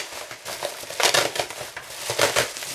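A Mylar pouch is torn and handled up close, giving loud, continuous crinkling and crackling bursts that rise and fall irregularly for a few seconds.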